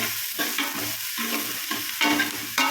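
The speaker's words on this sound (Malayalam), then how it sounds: "കുറച്ച് ഉപ്പ് ചേർത്ത് നന്നായി വഴറ്റുക" Chicken curry masala being sautéed with salt in a pan, a steady sizzle broken by rhythmic spoon scrapes roughly every half second, close up with no talking.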